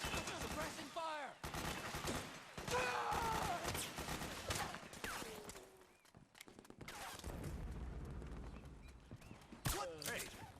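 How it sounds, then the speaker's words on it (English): Gunfire in the video game Metal Gear Solid 4, rapid bursts of shots and a clattering fusillade mixed with shouted voices and game effects, loud and dense with short lulls between volleys. "Suppressing fire!"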